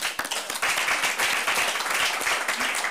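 Moderate applause in a town council chamber during a municipal meeting, with individual claps distinct in a small crowd, steady rhythm for a few seconds, no talking over it.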